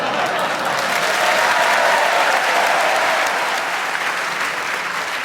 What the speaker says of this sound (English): that spontaneous round of applause